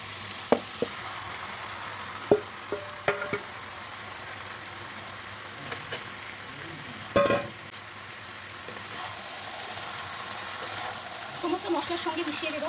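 Marinated mutton sizzles and fries in a pan with spices, a steady crackling hiss with occasional clatters of stirring, while a voice talks now and then over the cooking.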